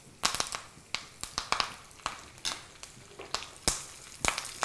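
Curry leaves hit hot tempering oil with urad dal, mustard seeds and cumin, popping and crackling in sharp, irregular bursts, close but fairly quiet, with no voices.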